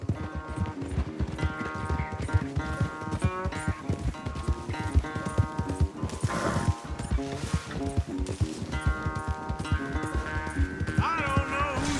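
Several horses gallop hard in a race in Red Dead Redemption 2, with a steady, dense drumming of hoofbeats up close, a brief scuffle midway, and voices talking over the pounding.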